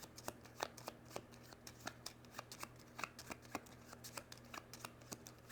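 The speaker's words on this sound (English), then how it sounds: "Taking those 4 cards, and then shuffling as well as I can." A deck of board game cards is shuffled by hand, a close, quiet run of rapid crisp riffles and snaps in an even rhythm.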